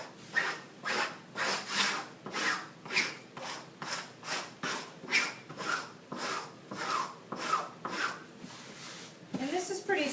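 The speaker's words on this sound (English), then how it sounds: "you want to scrape some of that out of the way so you don't get dry pieces in your clay" Dry clay residue being scraped off a cloth in rhythmic, repeated strokes, about a dozen even rasping scrapes close up, with a voice talking over them.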